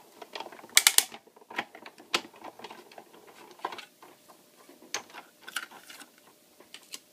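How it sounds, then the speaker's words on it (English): A craft piece tacked to a cutting plate, with a C plate laid on top, feeds through a die-cutting machine, giving a steady run of light clicks, ratcheting and rolling mechanical patter close by, with no talk. "Lay your C plate on top again and run him through your machine."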